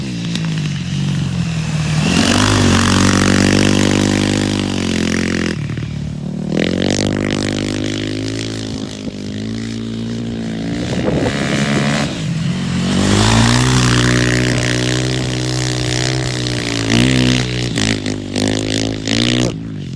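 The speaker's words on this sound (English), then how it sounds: "This scratches up the ice pretty good." A studded-tire race vehicle tears across ice, its loud engine revving up and easing off repeatedly while gritty scraping and clattering run underneath.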